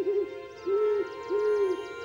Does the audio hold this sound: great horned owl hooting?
yes